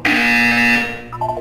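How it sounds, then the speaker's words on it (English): A loud harsh buzzer sounds in the Portal 2 video game, one sustained tone lasting under a second, followed by quieter electronic beeps. "You will hear a buzzer."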